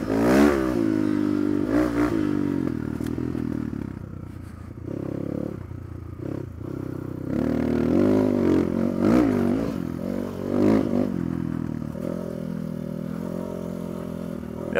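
A Barton NXT motorcycle engine revs hard while riding, its loud buzzing note climbing and dropping through gear changes over rushing wind, close and continuous.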